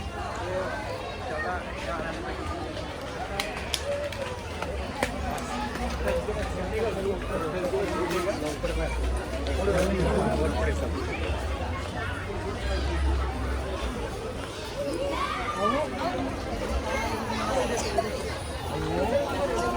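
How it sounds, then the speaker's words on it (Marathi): Crowd of visitors milling around Katraj zoo park, a steady murmur of overlapping chatter and footsteps close by, continuous throughout with a low rumble beneath. "खूपच गर्दी आज मग खूप विचित्र झालं"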